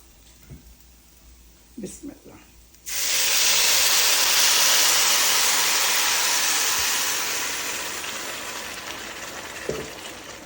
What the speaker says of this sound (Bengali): এখন আমি পানি দিয়ে দেবো ফুটন্ত গরম পানি